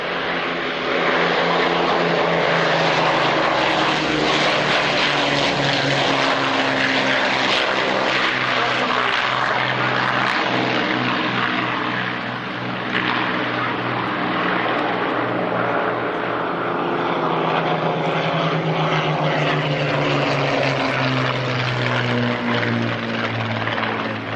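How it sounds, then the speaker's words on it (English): An Avro Lancaster bomber flying with its gear down alongside a Hawker Hurricane at the Duxford Flying Legends airshow: a loud, sustained roar of piston propeller engines that swells and drones steadily as the aircraft pass overhead. "So as the Lancaster comes around with its gear down, over its head, it's by an Hurricane."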